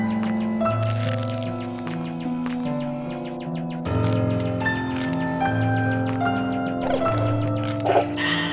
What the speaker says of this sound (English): A crow is just going to town on that eyeball.